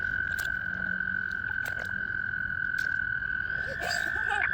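A toad at a creek gives a continuous, loud, even trill that runs straight through, with scattered splashes and clicks from people searching the water, and faint talk in the background.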